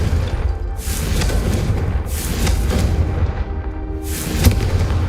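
Confringo blasting spells cast in Hogwarts Legacy, three loud booming bursts roughly 1.5 seconds apart, each with a crackling hiss over a constant low rumble and no talk.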